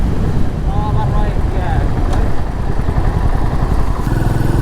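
A Royal Enfield Meteor 350 motorcycle rides along a road with its engine droning steadily under heavy wind rush, loud and close, while a voice talks over it at times.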